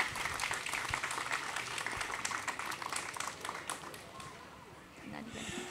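An audience at a book presentation applauds warmly, a thick wash of clapping that gradually thins and fades toward the end, with some voices murmuring underneath.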